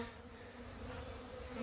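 Honey bees at a Michigan hive during spring build-up hum in a steady, dense, close buzz that continues evenly throughout with no talking.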